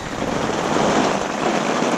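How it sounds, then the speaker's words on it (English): Steady, heavy rain hisses continuously with a gusting wind roar underneath, a dense unbroken wash of noise with no voices, heard from inside a rooftop tent in New Zealand. "Absolutely pouring down outside, quite windy and not a drop of water inside."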